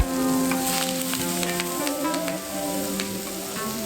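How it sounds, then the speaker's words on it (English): Onions and fish frying in a pan at a home kitchen in Borneo, a steady close sizzle with crackling spits running throughout at even loudness, with no talk. "frying onions and cooking other"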